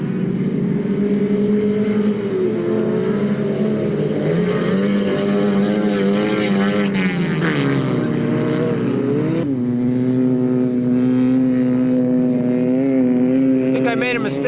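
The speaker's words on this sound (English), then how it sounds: "Scraping noises, the studs hitting the fenders on this corner." Studded ice-racing cars sweep through a corner while the studs scrape against the fenders, a roaring engine drone rising and falling with a gritty scraping texture, loud and steady throughout.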